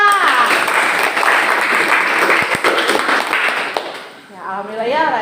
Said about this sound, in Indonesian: tepuk tangan untuk Puspita